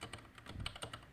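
A password is typed on a computer keyboard: a quick run of about eight crisp, close key clicks in an uneven rhythm over roughly a second, with no voices.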